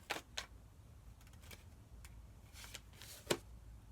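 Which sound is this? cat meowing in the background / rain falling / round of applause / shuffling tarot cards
shuffling tarot cards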